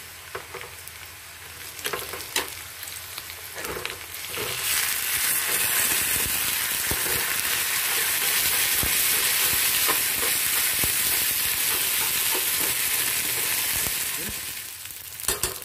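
Whole spices for an Assamese-style egg curry sizzle steadily in a hot pan, the frying growing louder after a few seconds, with occasional scraping and stirring.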